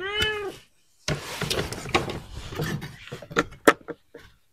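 A hungry cat gives a loud, close meow while waiting for a piece of fatty meat at a mealtime in a forest home, followed by dish clatter and knocking sounds.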